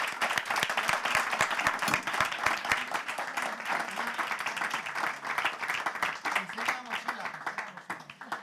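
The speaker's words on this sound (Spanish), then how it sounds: "que les demos un aplauso" An audience at a talk on the digital era claps steadily for several seconds, the dense applause slowly thinning toward the end while a voice is heard faintly beneath.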